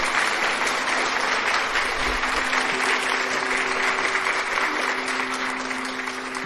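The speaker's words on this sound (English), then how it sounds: "Clap it up." Audience at a Mother's Day gathering applauds in a dense, steady wash of clapping that holds loud throughout and fades slightly at the end.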